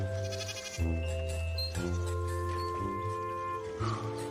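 Goats bleat repeatedly in drawn-out, wavering calls, close and fairly loud, with breaks between each cry.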